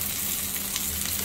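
Chopped onion, garlic and dried chillies fry in hot oil, giving a dense, steady sizzle with faint crackles, no talking.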